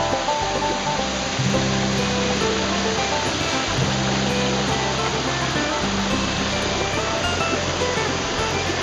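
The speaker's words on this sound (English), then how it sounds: "Waterfall along the trail. Quite a bit of water coming down," Waterfall along a hiking trail, with plenty of water coming down in a dense, continuous roar that fills the whole scene close by, steady throughout with no break.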